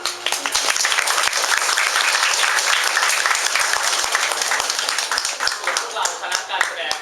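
An audience claps loudly after a Thai secondary-school play of the Vessantara Jataka, a dense, continuous wash of applause lasting seven seconds with scattered sharper claps standing out.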